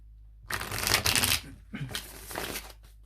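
Tarot cards are shuffled close up in quick riffling bursts, two main rounds of rapid flicking with a short pause between, loud against a quiet room.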